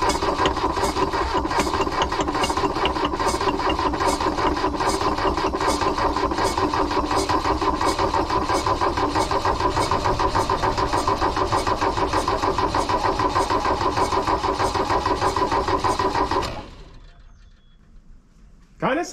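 An abandoned diesel VW Rabbit pickup engine cranks steadily with a whiff of ether in the open intake, its rapid rhythmic churning going on for about sixteen seconds without catching, then stopping abruptly into near silence.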